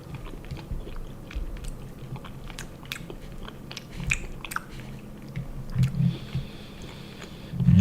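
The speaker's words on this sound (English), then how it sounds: "I apologize, my chewing sounds." Wet chewing of sushi sounds close to the ear, with soft repeated bites, squishes and small crunches in an irregular rhythm and no talking.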